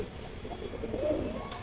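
Paper pigeons (kagzi kabutar) on a rooftop give soft, close cooing throughout, with a slightly stronger burst of calls near the middle and no talking.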